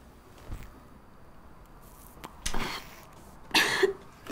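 A few short coughs from cigarette smoke at uneven intervals, growing louder toward the end, with quiet background between them.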